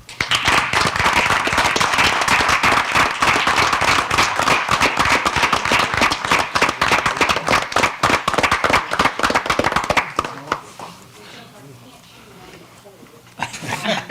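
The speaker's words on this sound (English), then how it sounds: "If we can, get a round of applause for these officers." Audience at a town council meeting in Nashville, North Carolina claps for police officers: dense, loud, sustained applause for about ten seconds, then it cuts off, leaving quieter room noise.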